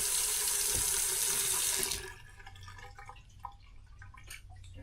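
Hot water running from a kitchen tap fed by a ThermoMate 18kW tankless electric water heater, a loud steady gush for about two seconds, then a quieter trickle with scattered drips into the sink.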